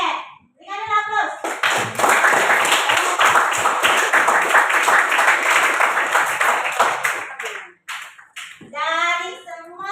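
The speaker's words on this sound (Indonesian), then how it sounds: "Oke, berikan dulu aplaus." Students in a classroom break into applause, a dense, sustained burst of clapping lasting about six seconds, with voices speaking just before it starts and again after it fades.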